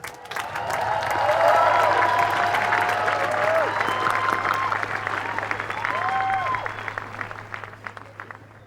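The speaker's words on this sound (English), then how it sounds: "let's give the class of 2020 a round of applause." An audience claps for the class of 2020 as the first row approaches the stage at a graduation ceremony: sustained dense applause with scattered cheers that swells, holds, then thins toward the end, a steady low hum beneath.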